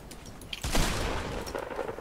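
Gunfire in Fortnite comes as a few light clicks and then one louder shot that rings out and tails off, with faint game noise underneath.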